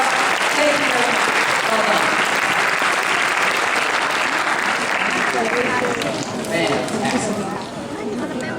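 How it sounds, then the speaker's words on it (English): An audience at a math magician's show claps for four volunteers, loud continuous applause from many hands that thins slightly toward the end, with voices mixed in. "let's give all 4 of these people a nice round of applause"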